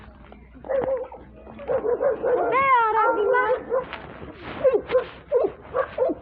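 A dog yelps and whines in short, high bursts close by, mixed with people talking in Turkish over it, near a vineyard.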